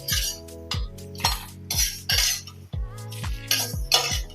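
Spices and chillies dry roast in a pan as a metal spoon stirs and scrapes, giving a steady series of close clinks and scrapes about every half second.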